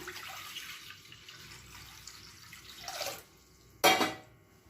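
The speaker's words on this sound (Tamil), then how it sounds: "ஒரு குக்கர் எடுத்துக்கலாம் இதில் ஆறு டம்ளர் தண்ணி சேர்த்துக்கலாம்" Water poured into a cooker, six tumblers' worth, while making rice vadagam: a faint running hiss gives way to two short, louder splashing pours near the end, with no talk.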